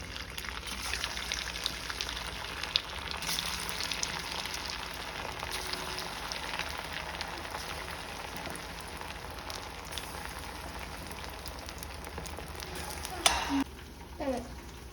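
Chicken 65 frying in hot peanut oil, a steady rain-like hiss and bubbling that holds throughout, faint and close, ending with a clatter near the end, while someone talks over it.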